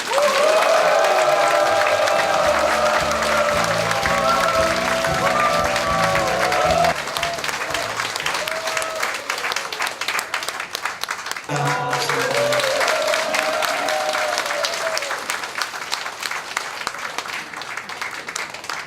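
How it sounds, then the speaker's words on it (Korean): Loud crowd applause and cheering greet an education superintendent candidate at a campaign office opening, with steady clapping throughout, raised voices and shouts on top that drop away midway and then swell again. "여러분의 힘찬 박수와 함성으로 모시겠습니다."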